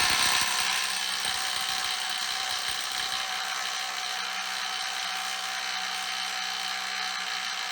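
A Dewalt DCF921 20V cordless impact wrench with a 6-amp-hour battery strains against a stubborn bolt, giving a loud, steady high-pitched whine and rattle that runs continuously, close-up and without talk.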